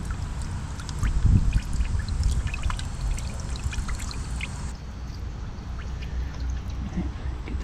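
Old fuel draining from a long-abandoned John Deere tractor into a container, a close, steady trickling pour with splashy gurgles, strongest early on and then settling into a continuous dribble.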